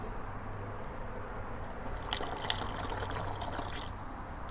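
Cowboy coffee poured from a pot held three to four feet high, a steady liquid stream splashing into a cup for several seconds, fairly close and without talk.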